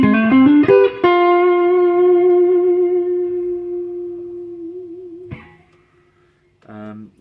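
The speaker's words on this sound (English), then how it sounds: "Just a clean channel, bit of reverb, and so this is the neck pickup." Clean electric guitar notes from a Stratocaster-style partscaster's neck pickup ring out with reverb: a quick run of picked notes, then one note sustaining and slowly fading, followed by a short strummed chord.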